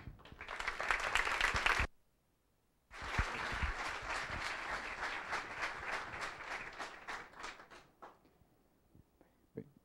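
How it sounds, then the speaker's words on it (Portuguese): Audience applause fills a cultural venue's evening debate hall, a dense burst of clapping that breaks off briefly, then resumes steadily for several seconds before fading into scattered claps near the end. "vamos receber com aplauso Miguel Reale Júnior"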